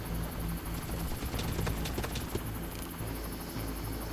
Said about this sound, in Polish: Gdzie jest ten helikopter?